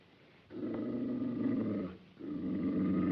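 A dog growls low and throaty in two sustained rumbles, close and fairly quiet, separated by a short pause.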